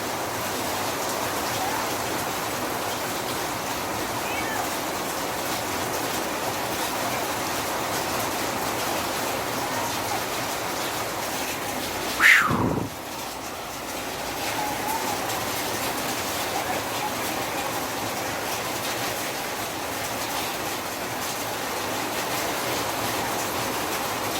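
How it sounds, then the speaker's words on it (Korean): Heavy rain pours down in a steady, even hiss, broken once midway by a short dull thump. "비가 엄청 내리고 있습니다."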